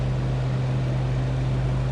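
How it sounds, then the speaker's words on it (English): In the DCS flight simulator, a de Havilland Mosquito with its left engine being secured keeps up a steady, loud, even drone with a strong low hum, constant throughout and without speech. "to continue securing the left engine, we're going to turn the ignitions off, close the radiator shutter, and turn off the fuel supply"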